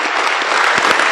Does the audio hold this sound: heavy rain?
no